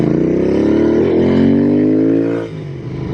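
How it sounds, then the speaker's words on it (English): A Royal Enfield Interceptor 650 motorcycle engine revs loudly and close by, its tone climbing smoothly, then dipping briefly and climbing again before settling back toward a throbbing idle. "This is the Royal Enfield 650 Interceptor."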